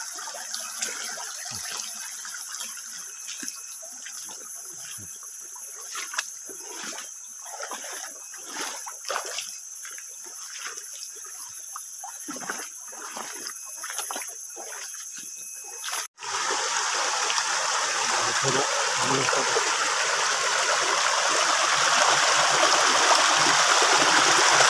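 River water flows through a forest, a steady rushing and splashing stream that grows louder and denser partway through, with no one talking.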